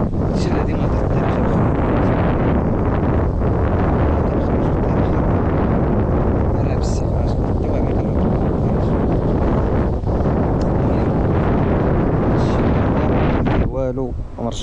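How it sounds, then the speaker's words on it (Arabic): Strong wind roars continuously against the microphone in the Botswana bush, a loud, buffeting rumble with gusts throughout and no voices. "بدا عاوتاني الريح"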